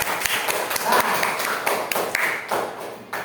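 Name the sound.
applause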